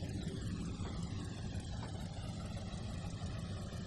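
Trainz 2019 game locomotive on the C&O Hinton route hauling coal cars while slowing down, a steady low engine rumble and drone that holds even and continuous, fairly quiet and without talk.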